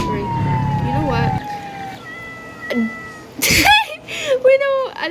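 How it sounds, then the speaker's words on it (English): A cat stuck in a tree meows in a video game, several rising and falling cries in short bursts alongside siren-like tones and a person talking over the top. "I got a cat stuck in a tree."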